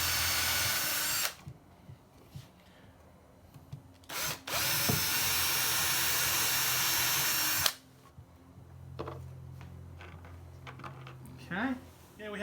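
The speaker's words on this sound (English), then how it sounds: "Okay, we have our holes pre-drilled." A power drill pre-drills holes in wood, whirring loudly in several bursts of a few seconds each, separated by quieter gaps with handling noises and faint clicks.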